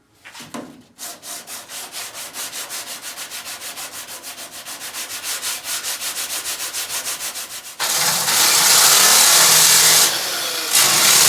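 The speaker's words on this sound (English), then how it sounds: "Just a tedious process of sanding and shaping it into place, and then spread more filler" Rapid, rhythmic back-and-forth hand sanding of body filler on a 1936 Ford Tudor, close and steady for several seconds, then switching to a louder, continuous grinding hiss.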